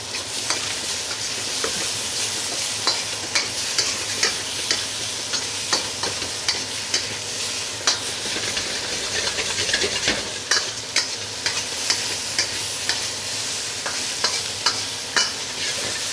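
Chicken stir-fries in a wok over the highest heat, a steady loud sizzle with repeated scraping and stirring clatters throughout, no voices.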